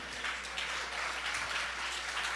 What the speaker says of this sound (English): All right, another round of applause,